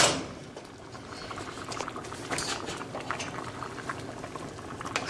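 Pot of red beans with peppers bubbling steadily on the stove, a continuous close, moderately loud simmering patter with small pops throughout and no talk.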